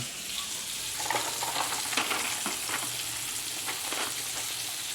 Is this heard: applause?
no